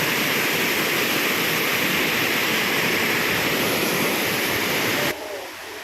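Rainwater rushes in a dense, steady roar as it flows down toward a waterfall, loud and continuous, before dropping suddenly to a softer wash near the end.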